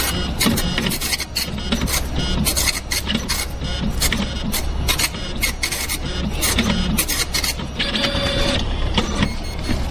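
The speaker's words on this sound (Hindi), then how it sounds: "जैसे ही मैं यहाँ पे प्रिंट बटन पे क्लिक करूंगा तो प्रिंटर जो है प्रिंट करना शुरू कर देगा" A bank passbook printer runs a page through for Finacle banking software, making a loud, continuous mechanical rasping and buzzing with rapid rhythmic print-head strokes. The sound holds steady for about ten seconds and no one speaks.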